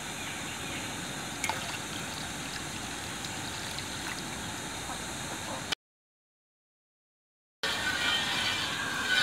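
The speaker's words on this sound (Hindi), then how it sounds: "इसमें हम पानी डालेंगे।" Water from a glass is poured into a pot of milk on a stove, a steady trickling splash that runs for several seconds, breaks off briefly, then resumes at similar loudness.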